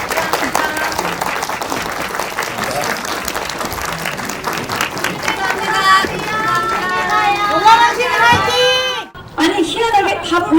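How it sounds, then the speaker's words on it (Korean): Audience applause at a post-screening talk for the Korean film Brave Citizen as guests leave the stage, steady crowd clapping with a host talking over it, swelling louder toward the end. "저쪽으로 퇴장하시는 동안에도 박수로 보내드리도록 하겠습니다"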